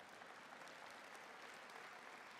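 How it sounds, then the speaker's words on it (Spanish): A church congregation applauds a brother, a steady, even wash of clapping from many hands that carries on without a break and sits fairly distant and soft. "¡Guau! El aplauso al hermano,"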